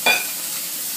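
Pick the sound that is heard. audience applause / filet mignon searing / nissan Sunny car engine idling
filet mignon searing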